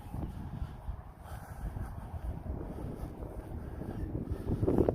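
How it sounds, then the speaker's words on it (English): Wind blows across a river walkway in Corning, New York, a steady low rumble of gusts hitting the microphone that builds toward the end, with no one talking. "Hopefully that wind isn't too bad."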